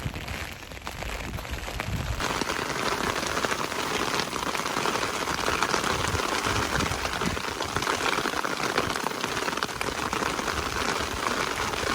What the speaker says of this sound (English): So here I am walking in the rain.